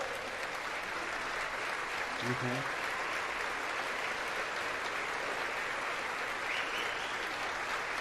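Audience applauding for the Speaker of the House in a large chamber, a steady wash of clapping throughout with a brief spoken word partway in.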